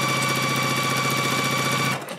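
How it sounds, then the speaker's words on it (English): A sewing machine chain-pieces quilt blocks with a steady, fast mechanical chatter that runs evenly for about two seconds and then stops abruptly. "I can just sew."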